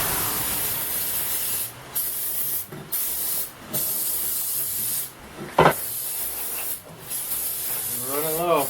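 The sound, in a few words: hissing spray while prepping LS swap engine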